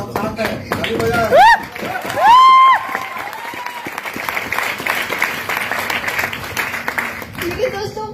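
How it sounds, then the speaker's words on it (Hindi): Audience clapping at an indoor motivational gathering, continuous applause with cheering and loud whistles early on, a voice talking near the start and end. "चलो अरे सब साथ है, ताली बजाओ।"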